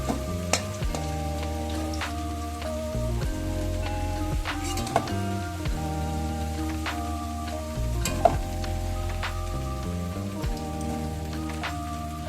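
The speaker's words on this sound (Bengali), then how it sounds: "এদিকে দেখো আলুগুলো ভাজা হয়ে এসেছে" Potatoes frying in hot oil, a continuous sizzle with occasional stirring clicks, heard under steady background music and without speech.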